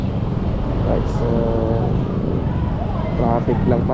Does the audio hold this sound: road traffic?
yes